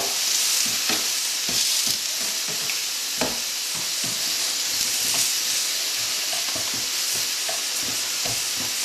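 Mushrooms and tinned tomatoes fry in a pan with a loud, continuous sizzle and hiss, broken by frequent scraping and tapping of a utensil stirring.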